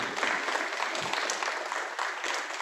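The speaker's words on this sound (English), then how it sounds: "let's give him and all our exhibitors in that class a nice round of applause" Audience applause at a junior 4-H livestock show after a market beef class, a dense, steady round of clapping at close range that holds for the whole stretch without talk.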